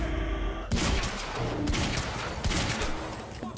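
Sustained gunfire in the video game Quantum Break, a dense fusillade of overlapping shots and bursts that starts abruptly and stays loud and continuous throughout.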